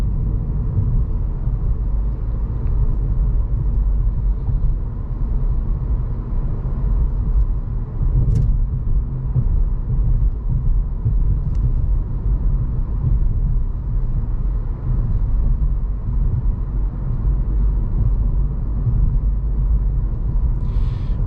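Inside a 2024 Nissan Versa SR on an uneven road, a steady low rumble of tires and engine fills the cabin, with a few faint knocks over bumps and no speech.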